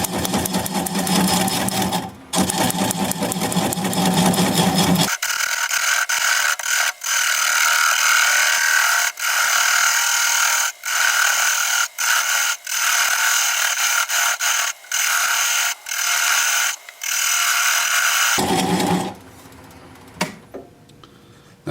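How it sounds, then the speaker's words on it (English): A bowl gouge cuts away the tenon on a cherry burl spinning slowly on a lathe, a steady bright rasping hiss broken by short pauses, with a lower rumble of the machine at the start and end. "I'm going to use a 3/8 inch bowl gouge and commence to removing that tenon"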